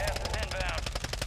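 Rapid automatic gunfire in a video game, a steady burst of fast repeated shots close up, with a voice tone running through it.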